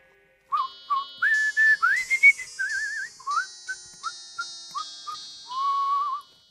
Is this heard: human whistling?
yes